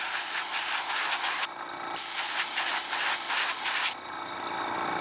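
An airbrush hisses in a steady spray of paint onto a custom My Little Pony toy, cutting off briefly twice and starting again, close and loud.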